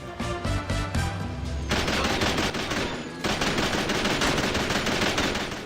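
Rapid machine-gun fire from the video game Wolf of the Battlefield: Commando 3 blasts in dense, continuous bursts, loud and close, with a brief pause before the shooting resumes.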